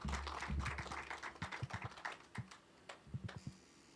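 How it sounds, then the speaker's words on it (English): Scattered clapping from a small crowd at an opening ceremony, uneven and thinning out over a few seconds, with no one speaking. "we offer you a big applause"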